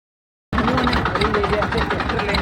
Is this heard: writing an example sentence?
no